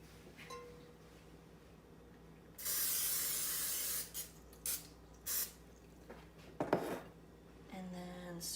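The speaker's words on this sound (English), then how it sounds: "you want to spray your bread pan" Cooking spray hisses onto a bread pan in a home kitchen, one steady burst of about a second and a half followed by a few shorter puffs, with faint clinks of the pan nearby.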